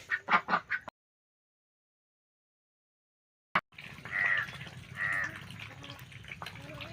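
A few quick nasal quacks up close, then a pause before a sharp knock and more honking, quacking calls from nearby birds.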